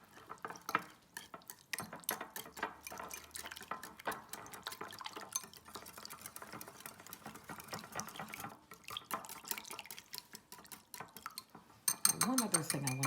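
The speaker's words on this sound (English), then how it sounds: "I'm just going to give this all a whisk." Water and soy sauce whisked together in a bowl for an egg roll dipping sauce, giving a steady run of quick liquid stirring and clinking strokes at close range, with a voice speaking over much of it.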